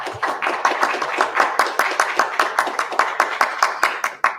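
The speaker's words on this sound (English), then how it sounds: "please give them a round of applause" An audience at a public safety auditor candidate forum at the Johnson Rec Center in Denver gives a round of applause, a fairly sparse crowd clapping in clear, separate, rapid claps that stay fairly loud and then trail off at the end.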